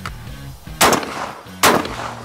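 Two loud shotgun blasts from an Altobelli Turkish double-barrel, spaced under a second apart, each a sharp broadband crack with a short decaying tail, fired close during an endurance test.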